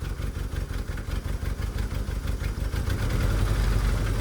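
A VW Kombi engine running on only three cylinders with one faulty injector and a missing spark, a close lumpy idle with an uneven pulsing beat that smooths into a steadier, louder run near the end.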